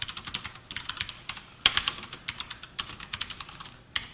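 Code is typed on a computer keyboard in quick, irregular clusters of light key clicks, close and fairly quiet, with one sharper keystroke midway.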